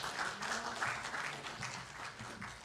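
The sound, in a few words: applause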